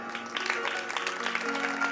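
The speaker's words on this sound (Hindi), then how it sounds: "पापा के लिए जोरदार ताली।" A crowd claps for a father during a sung tribute to a daughter, brief applause over lingering musical tones.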